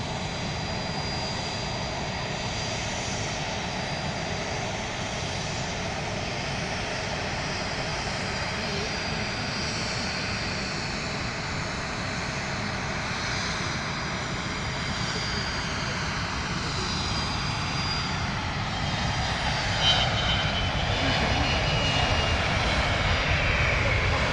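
A Bombardier Global 6000 business jet sets takeoff power far off across London Luton Airport, a steady, distant broadband engine roar filling the whole stretch, swelling slightly toward the end.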